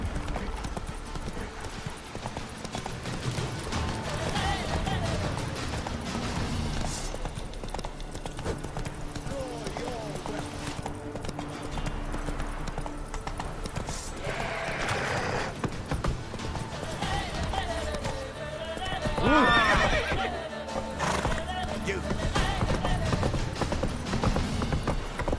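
Geralt's horse Roach from The Witcher 3 pounds along in rapid, continuous hoofbeats, with creaking tack and an occasional whinny over a busy game soundscape; speech is also present.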